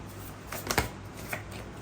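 A deck of tarot reading cards is shuffled in a few quick papery riffling bursts, close and fairly quiet, with no talking.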